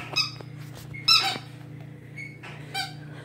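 A squeaky toy gives several short high squeaks close by, spaced irregularly over a steady low hum, with no talk.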